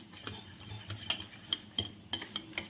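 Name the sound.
stirring kunafa batter smooth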